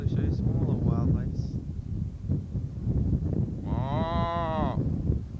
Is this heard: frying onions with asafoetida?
no